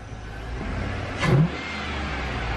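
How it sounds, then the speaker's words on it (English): A Chevrolet Tahoe's idling engine, fitted with an aftermarket cold air intake, swells into a short rev with a brief rushing throttle-body intake whoosh, then settles back to a steady hum. "I can hear the throttle body."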